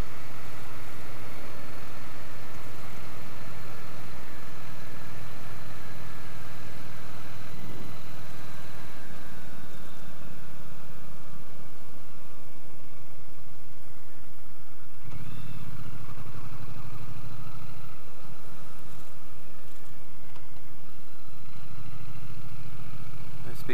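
A Triumph T100 motorcycle is under way, its engine giving a continuous low drone with rising and falling revs and wind rush. A rider talks over it now and then.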